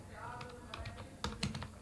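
Quick keystrokes on a computer keyboard while a PHP artisan command is entered, a brief patter of close taps with a couple of louder strokes near the end over low room hum.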